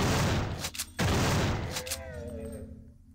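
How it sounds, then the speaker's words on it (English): In System Shock 2, hostile gunfire rattles in two dense, loud bursts of rapid shots, then fades into a softer ringing tail. "Stop shooting me."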